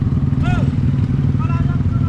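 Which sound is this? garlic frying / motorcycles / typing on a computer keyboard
motorcycles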